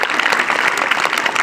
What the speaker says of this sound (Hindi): एक बार फिर से अपने लिए तालियां बजा दो